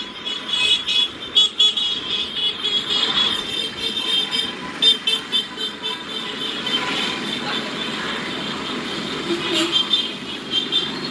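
Several vehicle horns of a political caravan in San Manuel, Pangasinan, honk repeatedly in short toots and longer blasts, mixed with traffic rumble and a busy street crowd.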